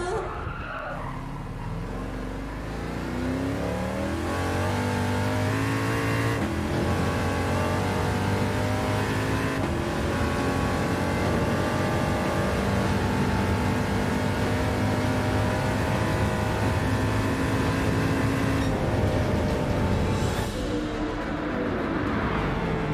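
A race car engine in Gran Turismo 7 on the Deep Forest track revs continuously at high pitch, with shifting tones and tire squeals throughout, loud and close, with talk faintly underneath.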